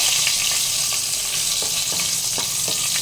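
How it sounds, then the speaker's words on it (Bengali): Nigella seeds and green chillies sizzle in hot oil in a pan, a continuous close crackling hiss with a few small pops and stirring taps. "এখানে শুধু আমি কালো জিরেটাই দিচ্ছি। এবার আমি এখানে দিয়ে নেব কাঁচা লঙ্কা"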